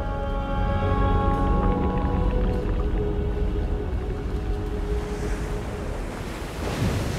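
Water rushing down in The Legend of Zelda: Tears of the Kingdom, a loud continuous roaring wash with wind-like noise and low tonal game sounds, steady throughout with no pauses.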